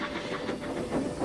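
A storybook steam engine puffs steadily along a line, a soft breathy hiss with faint rhythmic chuffs and a hint of rail clatter, heard alone at moderate volume.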